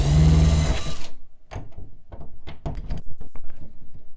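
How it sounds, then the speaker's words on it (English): A drill driver with a long-shank Phillips bit whirs briefly as it backs out door hardware screws, followed by a series of close, light clicks and taps from the metal parts. "the long shank allows me to come in and just pull those screws right out"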